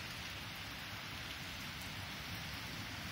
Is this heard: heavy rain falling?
yes